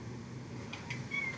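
A cat gives a short, faint meow or two at close range over a low steady background hum.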